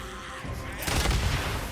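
In the PS5 game Days Gone, a dense burst of booming explosions killing freaker hordes rises sharply partway through, loud and rumbling over a constant noisy backdrop of game sounds.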